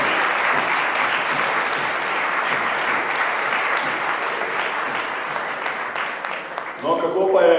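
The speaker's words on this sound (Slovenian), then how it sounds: "dajmo še en aplavz za podružnično otroško režice in tudi Amerik" Sustained audience applause at a children's spring choir concert, dense steady clapping from a large crowd filling the hall, fading near the end as a voice and other sounds come in.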